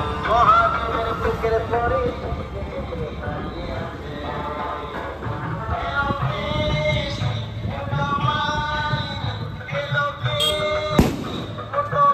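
Firecrackers and fireworks burst outdoors during a festival evening, sharp cracks and pops scattered across the stretch amid a busy, crowded background, with one especially loud bang near the end.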